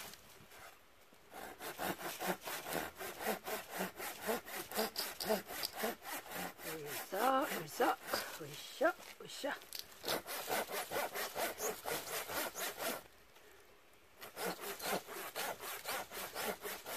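Firewood being cut with a handsaw in steady back-and-forth strokes, a rhythmic rasping that runs close and loud, pauses briefly around the middle and again near the end, then resumes.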